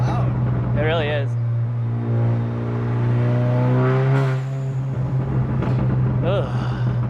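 An Audi S3 with a CTS blow-off valve pulls hard, the engine tone rising steadily and loud from inside the cabin, while people talk and exclaim over it at intervals.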